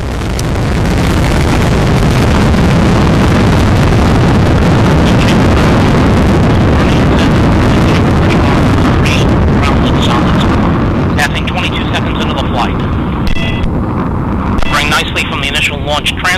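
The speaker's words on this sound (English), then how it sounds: "We have ignition and liftoff of Aquarius and the SAT-D Observatory" Rocket launch carrying NASA's Aquarius satellite: a loud, continuous roar of engine thrust with heavy crackling rumble sustained throughout, the upper hiss thinning later as the vehicle climbs away.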